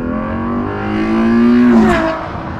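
A 2016 Ferrari GTC4Lusso's naturally aspirated V12 revs up hard during an Autobahn run, its rising engine note swelling loud and close before easing back, with no talk over it.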